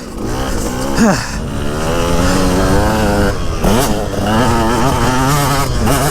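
A motocross bike ridden on a dirt MX track, its engine loud and close, rising and falling through repeated revs and gear changes in a continuous buzzing drone.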